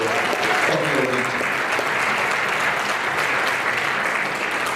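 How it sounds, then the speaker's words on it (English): Audience applause at a community dance competition event, a steady dense wash of clapping from a crowd, loud and continuous throughout. "So a huge round of applause for Buffalo Wings."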